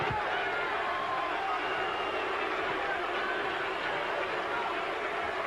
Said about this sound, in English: as the crowd boos, Oliver McCall quite convinced he is victori